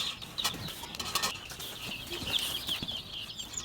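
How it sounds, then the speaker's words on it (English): Baby chicks peep in a brooder, a dense run of high chirps going on steadily throughout, with faint soft rustling and scratching underneath. "So we're going to get the chicks moved into here and check them out"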